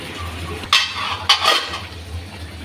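Water and tomatoes go into a pan of fish and potato curry, making two sharp clattering splashes followed by a soft bubbling sizzle over a low kitchen hum.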